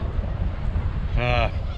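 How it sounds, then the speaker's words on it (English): Low, buffeting wind roars steadily against the microphone at a truck campsite while fishing, with a short honking, horn-like tone cutting through near the end. "It's really windy."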